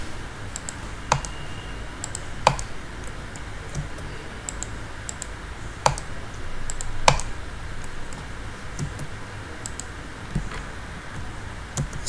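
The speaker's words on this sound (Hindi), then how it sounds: "wall right click window right click space bar wall right click और विंडो राइट क्लिक डन" Computer mouse right-clicks and space bar presses while drafting in AutoCAD: sharp, sparse clicks spaced a second or two apart over a steady low room hum, with no talking.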